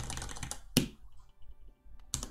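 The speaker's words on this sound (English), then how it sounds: "Keyboard ASMR, exactly." A few isolated, close keystrokes on a mechanical keyboard with brown switches, sharp clacks separated by a long quiet gap.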